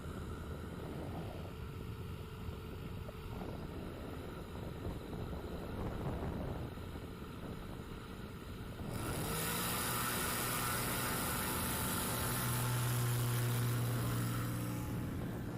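A Kit Fox light aircraft makes a short takeoff at an airfield during STOL competition practice, its engine droning distantly at first, then swelling abruptly into a loud, steady propeller roar with rising tones.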